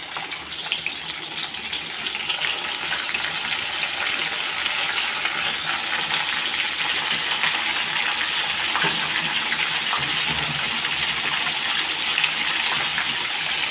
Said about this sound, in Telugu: ఇప్పుడు మనం కడిగి పెట్టుకున్న ఎండ్రీలు వేసుకోవాలండి.